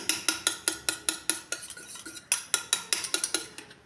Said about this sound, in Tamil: இது நல்லா விஸ்கி வச்சு நல்லா கலந்து விட்டுக்கணும், கட்டிகள் இல்லாத மாதிரி